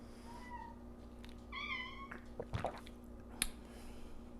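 A house cat meows softly twice, a short thin cry followed by a longer rising one, fairly quiet in the room, then a few small clicks and knocks.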